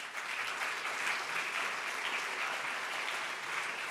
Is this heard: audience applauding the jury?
yes